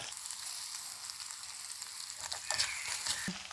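Green chillies and curry leaves sizzle in hot oil in a pan, a steady soft crackle with a few louder pops and a brief stirring scrape near the end.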